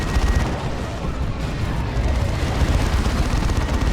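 Rocket run strike explosions in the Dawn of War 2 real-time strategy game, a continuous rumbling barrage of booms and blasts with heavy low-end roar, steady and loud throughout without clear gaps.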